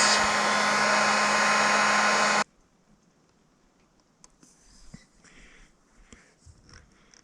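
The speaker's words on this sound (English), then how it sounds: "Warm up the brackets a bit so they can hold some heat while everything cures." A hot air blower runs loud and steady for about two seconds while warming mounting brackets for a Starlink mod on a truck camper, then cuts off abruptly, leaving faint clicks and light handling noise.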